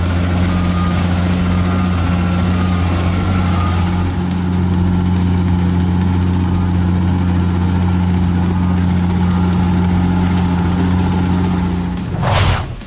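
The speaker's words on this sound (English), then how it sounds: "We can't tell if this Caterpillar 322 crawler excavator is swimming or driving" A Caterpillar 322 crawler excavator driving through mud, its diesel engine a loud, steady, deep drone close by that holds constant, then ends in a brief sharp clatter.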